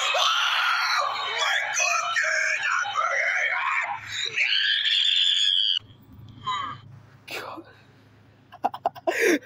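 A loud, drawn-out scream rises and wavers from a cartoon cookie character, followed by breathy groans and sharp bursts, with voices talking over parts of it.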